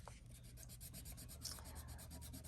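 A Rub Clean eraser scrubs back and forth across paper, giving soft, close, continuous rasping strokes at a quick even pace, with no voices.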